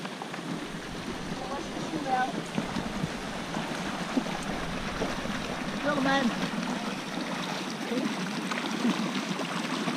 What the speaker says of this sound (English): You have to cross the raging Cave Creek here to get to where the gold is.